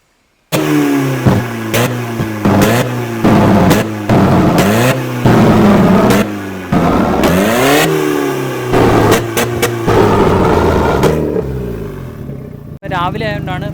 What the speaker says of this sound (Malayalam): ബാക്കിൽ എക്സോസ്റ്റ് നോട്ട് ഇങ്ങനെ വരും.